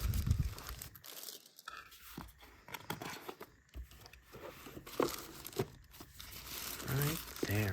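A NuPhy Air75 wireless keyboard is pulled from its plastic packaging with crisp crinkling and tearing rustles up close, alongside intermittent talk.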